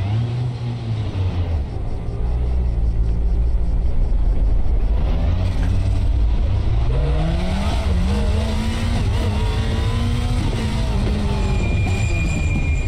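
A Volvo S60 Polestar WTCC touring race car in RaceRoom roars loud and close, its engine climbing and dropping through gear changes with steady revving and rumble throughout.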